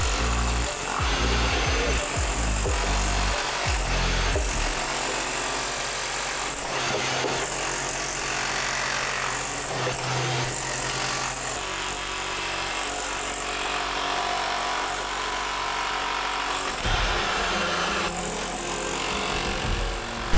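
A power tool grinds a bevel into a structural crack in swimming pool gunite, a continuous harsh abrasive whine and rasp held close and loud for the whole stretch, with slight shifts in pitch as the cut moves.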